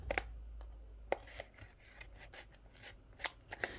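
A package of mosaic craft sheets is torn open and unwrapped up close, with crinkling plastic, rustling and a few sharp snaps, and no one speaking.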